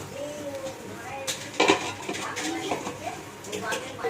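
A lid is set over a pan of frying tangra fish: light clinks of metal and cookware build to a sharp clatter midway, followed by softer rattles, with a person talking throughout.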